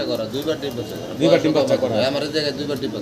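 Soft, low cooing of young fancy pigeons repeats in rounded pulses, mingled with a person talking nearby throughout.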